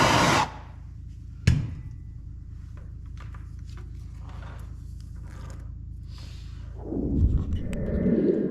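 A heat gun shrinks heat-shrink tubing over 12 volt pump wiring on a pressure washing rig. A loud airy blast starts the sequence, followed by a sharp knock and a steady low hum, then the rushing air returns near the end.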